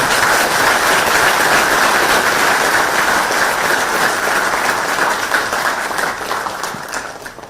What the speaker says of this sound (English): this needs a big, big round of applause